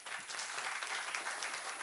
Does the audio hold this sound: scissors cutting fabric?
no